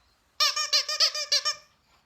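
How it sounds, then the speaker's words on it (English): A squeaker inside a toy dinosaur gives a quick run of about seven high, rubbery squeaks, loud and close, with no talking. "Where is the squeaker in this thing?"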